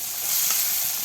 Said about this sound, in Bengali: এবার মশলাগুলো ভালো করে ভাজি ভাজি করে নিচ্ছে